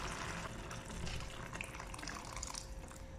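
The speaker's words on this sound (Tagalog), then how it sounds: "Ngayon, maglagay tayo ng tubig." Water pours into a cooking pot of sautéed beans and bitter melon seasoned with fish sauce, a soft, continuous splashing fill that is fairly quiet and close, with no speech.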